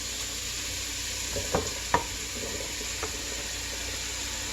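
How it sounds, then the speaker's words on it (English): Potatoes go into a hot pot for zuppa soup, giving a faint steady sizzle with a few soft clunks and stirring knocks, nothing spoken. "we can go ahead and just add our potatoes in"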